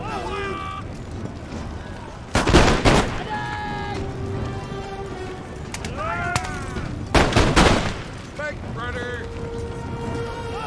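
Pistol and massed gunfire crack out in two loud, rapid bursts during a battle in the strategy game Empire: Total War, with battlefield voices and unit calls in between.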